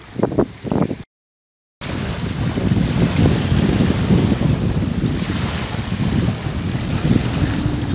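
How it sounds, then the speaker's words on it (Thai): Strong wind by the water on a fishing outing roars loudly and continuously into the microphone, with a brief gap of silence near the start and no talk. "ลมมันแรงมากนะครับวันนี้"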